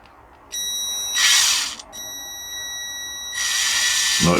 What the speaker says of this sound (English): What I've got is a 4mm drill, and what I've been doing is gradually drilling this out